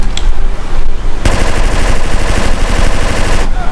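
A minigun fires in GTA San Andreas: a loud, continuous, rapid-fire roar that cuts in abruptly and keeps going almost unbroken to the end.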